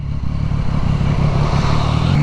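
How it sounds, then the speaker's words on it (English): A Triumph Street Triple 675 with a Scorpion titanium taper exhaust runs steadily nearby with a deep, throaty exhaust rumble, loud and continuous throughout. "this has got the Scorpion circuit taper exhaust on, the titanium one, and man, it sounds beautiful"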